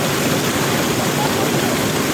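Hulugan Falls in Laguna roars as a loud, steady wash of broadband noise close by, unbroken throughout.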